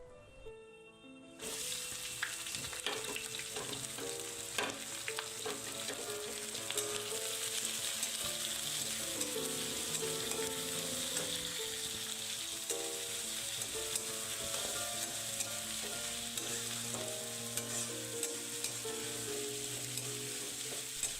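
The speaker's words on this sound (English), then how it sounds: "Keep frying it till it turns brown." Steady, loud sizzling of onions frying in a pan with whole spices, continuous for the whole stretch with small crackles and faint stirring, no voices.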